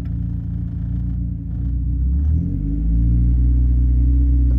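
A manual-transmission car engine is heard close up during a stick-shift driving lesson, with a steady low rumble that rises as the engine builds revs.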